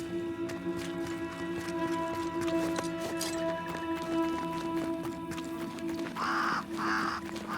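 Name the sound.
crow cawing in video game Banishers: Ghosts of New Eden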